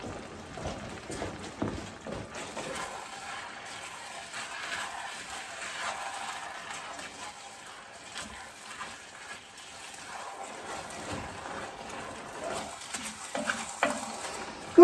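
Apples simmering down in a covered pan for a château dinner, a soft low bubbling and sizzle with occasional stirring and clinks of utensils against the pan, steady and quiet throughout.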